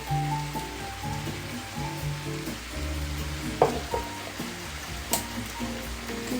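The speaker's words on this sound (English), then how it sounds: "I'm going to mix. And then we're going to go ahead and add like 2 teaspoons worth of ginger." Thai yellow curry ingredients with tamarind and ginger being stirred in a hot pan, a steady sizzle under scraping and clinking of the spoon, close and continuous without speech.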